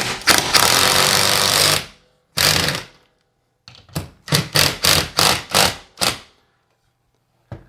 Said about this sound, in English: Now I'm using a impact driver here.